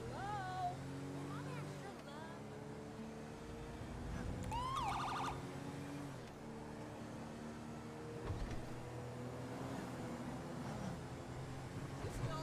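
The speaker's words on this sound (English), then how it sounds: "I've activated the siren at the East Los Santos station" A distant fire station siren in GTA 5 wails, rising and falling faintly beneath a low engine rumble, with people talking over it.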